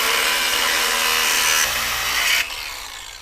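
A power saw cuts off the spare tire brace brackets flush on a 5th gen Toyota 4Runner during a rear bumper install, a loud, steady, rasping grind that drops off abruptly near the end.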